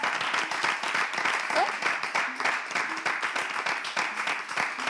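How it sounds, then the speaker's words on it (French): A studio audience applauds the day's guest, Ulrich Takam, on a talk show, steady clapping with distinct individual claps audible, mixed with a few faint voices. "on applaudit notre invité du jour."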